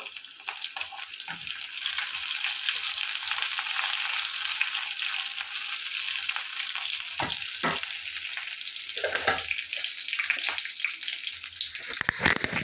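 Food frying in a pan gives a loud, continuous sizzle and hiss with occasional stirring scrapes and clinks, close up and with no talking.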